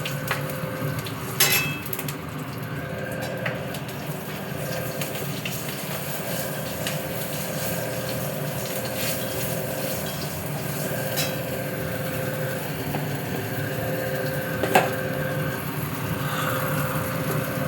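Three green chillies and nigella seeds frying in the hot oil left from lightly fried hilsa fish, giving a steady close sizzle and hiss throughout, with a few sharp pops and clicks.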